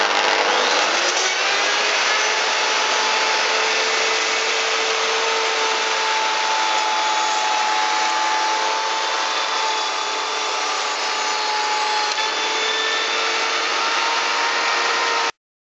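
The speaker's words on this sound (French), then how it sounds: "Fixé sur le guide de la défonceuse, j'ai monté une fraise de 20 mm correspondant à la feuillure que je veux faire" A wood router fitted with a 20 mm bit and edge guide cuts a rebate in a partition timber, giving a loud, continuous high-pitched whine with a steady cutting roar. It runs unbroken for about fifteen seconds, then stops abruptly, and no one talks.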